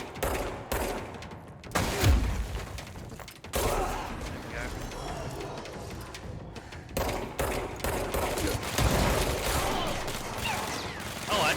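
Gunfire from hip-firing a weapon in the action video game Control, heard as repeated loud bursts of shots and crashing impacts over a dense, busy game soundscape, with a voice talking at times.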